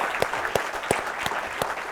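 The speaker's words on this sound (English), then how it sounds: "Round of applause for him." Sparse applause from a studio audience at a televised election debate on the economy, a handful of distinct claps spaced about a third of a second apart, fairly quiet in the room.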